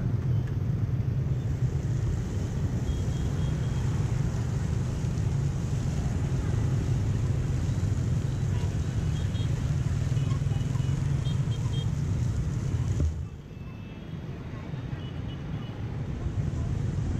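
A steady motor drone with rushing wind from a tuk-tuk in motion in Da Lat, Vietnam, continuous, easing slightly near the end.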